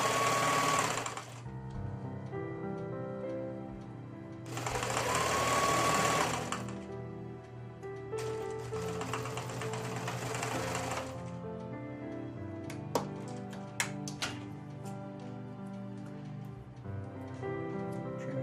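A home sewing machine stitches a double drain bag pillow in three loud, close bursts of rapid whirring with short pauses between, followed by lighter mechanical clicks and taps.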